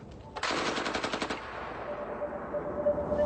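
Machine gun fire from a weapon system mounted on an armed combat robot: a loud rapid burst of shots lasting about a second, followed by lingering rumble and a faint steady tone.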